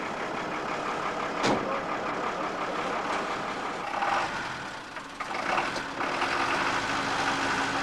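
A lorry manoeuvring in a farmyard, its engine rumbling steadily close by with a sharp knock near the start and shifting revs throughout, no talk.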